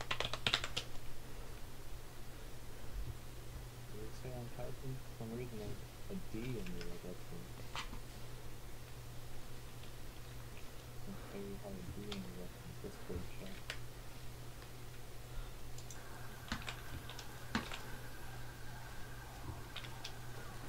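A computer keyboard is typed on in quick, quiet bursts of clicks during a PC gaming session, under a steady low hum, with faint voices in the background.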